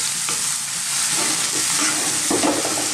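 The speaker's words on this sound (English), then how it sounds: "let's just throw this around in the pan for like 60, 90 seconds" Olives, artichoke hearts and garlic with oil, tarragon and seasoning sizzle steadily in a pan while being stirred and tossed, a continuous close frying hiss with brief scraping movements and no talk.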